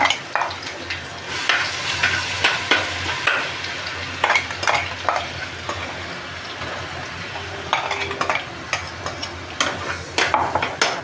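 Crushed green chilli and garlic thecha frying in hot oil over spluttered mustard seeds, for a mutton keema dish; a loud sizzle with repeated rhythmic stirring scrapes of a spoon in the pan, close and continuous.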